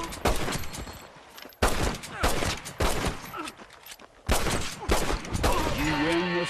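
Bursts of rapid gunfire crack out in a Red Dead Redemption multiplayer standoff on PS3, several loud volleys separated by short gaps, with a faint voice and a rising musical tone near the end.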